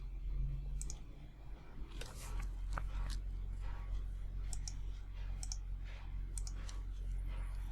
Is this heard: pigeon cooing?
no